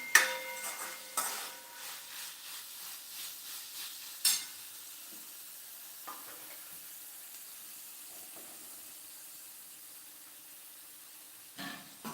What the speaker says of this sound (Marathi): मग ती एक पाच ते दहा मिनिटासाठी चांगली फ्राय होऊन द्यायची